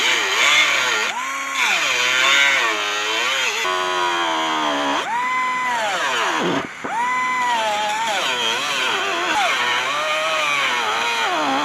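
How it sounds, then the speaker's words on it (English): A power tool cuts through the rusted outer skin of a car body panel, a loud close whining buzz whose pitch rises and falls repeatedly as the blade loads and frees, with a brief dip partway. "I just want to try to cut the outer skin off"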